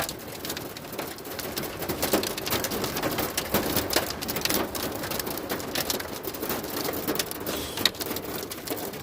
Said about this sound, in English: That sounds like some big droplets there.